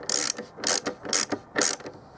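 A large ratchet tool clicking on the seized rear wiper of a 2007 BMW E91 335i, with four loud, close bursts of rapid ratcheting separated by short pauses.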